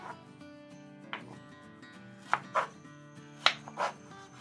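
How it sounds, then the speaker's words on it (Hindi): Knife chopping ripe mango into thick cubes on a board for a creamy fruit chaat, several sharp separate chops scattered over a few seconds, with quiet background music and no talking. "और अब इसके क्यूब बना लेंगे। आम के जो क्यूब है उनको थोड़ा मोटा रखना है।"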